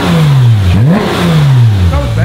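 A modified Porsche GT3 engine revs hard, rising and falling in pitch twice in quick succession, loud and close with no talking.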